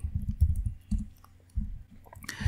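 MQL4 code being typed on a computer keyboard, with bursts of close, irregular key clicks, short pauses between them and a sharper clack at the end.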